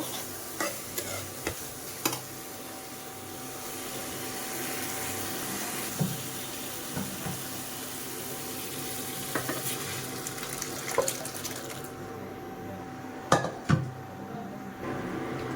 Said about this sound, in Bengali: এখন আমি সিদ্ধ করে রাখা মটরগুলো দিয়ে দেব।